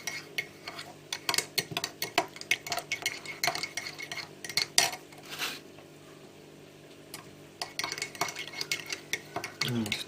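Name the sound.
stirring a dish with a spoon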